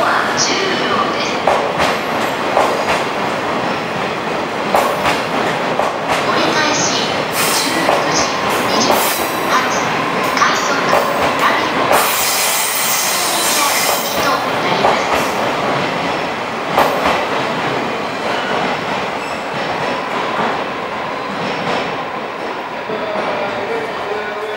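Hokutosei sleeper express train in Cassiopeia livery pulling into a station platform, loud rolling wheels clattering and squealing nearby, with announcements and voices over the rumble.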